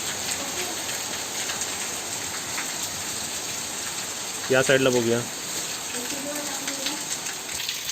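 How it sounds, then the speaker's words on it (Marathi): Heavy first monsoon rain pouring in Konkan, a dense steady hiss throughout, with someone speaking briefly over it partway through. "पहिला पाऊसच बघा आणि किती जोरात पडतोय बघा, एकदम जोरदार पाऊस पडलाय."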